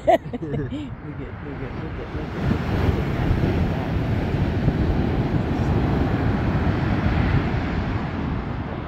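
Ocean waves surge and wash along the California coast in a steady, roaring broadband rush. Wind buffets the microphone throughout, and a voice briefly sounds at the start.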